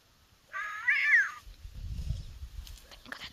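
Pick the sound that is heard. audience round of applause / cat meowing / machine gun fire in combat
cat meowing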